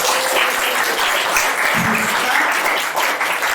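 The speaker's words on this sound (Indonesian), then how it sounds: "Ayo kasih tepuk tangan." Loud, dense applause from an audience at a youth retreat discussion session fills the whole stretch, steady and close with no voices standing out.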